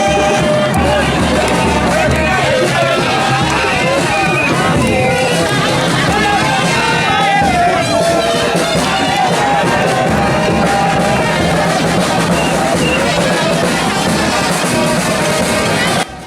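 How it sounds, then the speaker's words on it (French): A huge crowd fills an RDPC political rally in Bengbis, a dense, loud hubbub of many voices, shouting and movement running continuously throughout without pause. "Foule immense, mobilisation exceptionnelle, ferveur militante rare"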